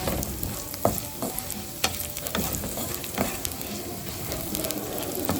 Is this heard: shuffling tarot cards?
no